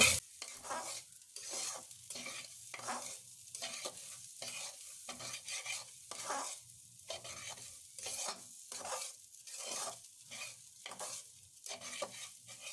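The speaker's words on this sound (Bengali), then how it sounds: "চাল যখন হলো এরকম শব্দ হবে তখন ভাজা হয়ে গেছে বুঝতে হবে" Rice fried in a pan with ginger and garlic paste for plain pulao, with close, rhythmic bursts of stirring and scraping over a steady sizzle, repeating every second or so with no talking.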